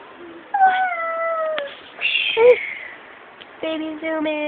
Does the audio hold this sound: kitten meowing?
yes